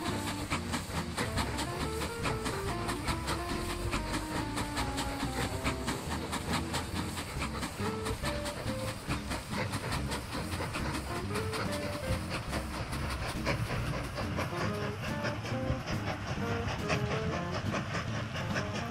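Train running on rails in the Mashinky video game, a continuous rumbling rail noise with steady rhythmic clatter held at an even level throughout, mixed with dense game sound and no talking.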